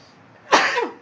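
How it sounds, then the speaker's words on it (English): A single sharp sneeze, close and loud, bursting out after a brief quiet moment and trailing off quickly. "I think I have to sneeze."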